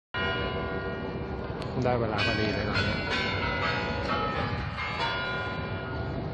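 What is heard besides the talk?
church bells ringing in Moscow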